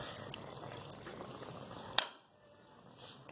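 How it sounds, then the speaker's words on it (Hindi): Tamarind water poured into simmering lentil dal, a soft bubbling and liquid hiss with a sharp clink partway through, after which it grows quieter. "अब इसमें हम इमली का पानी डालेंगे"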